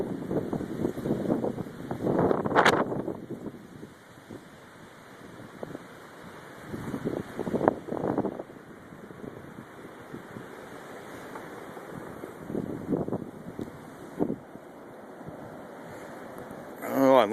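Strong blizzard wind blowing snow across Lake Zurich rushes in gusts, loud buffeting near the microphone with rising and falling surges, under a steady windy roar.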